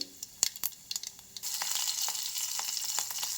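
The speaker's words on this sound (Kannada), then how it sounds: "ಈಗ ಒಗ್ಗರ್ನಿಗೆ ಸ್ವಲ್ಪ ಎಣ್ಣೆ ಹಾಕೊಳ್ಳೋಣ್ರಿ. ಸಾಸ್ಮಿ ಹಾಕೋರಿ, ಜೀರಿಗೆ ಸ್ವಲ್ಪ ಹಾಕೋರಿ" Mustard seeds and cumin tempering in hot oil: a few crisp pops and spits, then a steady, bright sizzle as the spices fry, close and continuous.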